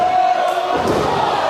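Wrestling crowd at a Destiny 2022 show chanting for the young tag team Flash the Miracle Generation, a loud sustained roar of voices filling the arena with a rhythmic chant swelling midway.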